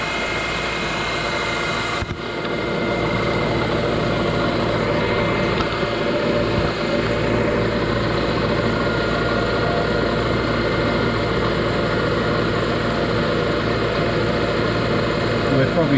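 A metalworking machine tool runs steadily, making a continuous broadband whir and hiss as it begins cutting metal with coolant flowing, loud and sustained with no talk.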